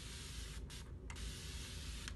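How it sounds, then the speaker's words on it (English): A spray bottle sends a steady hiss of water mist onto a face, with a couple of brief pauses between pumps. The misting is close, soft and continuous, and no one speaks. "I brought my spray bottle, and I'm gonna just kind of moisten my face down"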